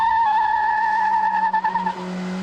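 A race car on a track makes an aggressive start, its engine a loud, sustained high whine with a steady pitch that falters briefly near the end, heard close and alone.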